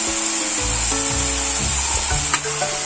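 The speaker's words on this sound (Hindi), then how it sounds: "अब हम इसमें अपनी मटर डालेंगे।" Peas tipped into a hot pan of carrot and potato curry, bringing a steady close sizzle with low thuds and stirring scrapes, plus one sharp clink near the end; no voices.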